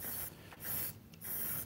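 Spray paint can fitted with a can topper, hissing out in three short bursts separated by brief pauses, faint and close.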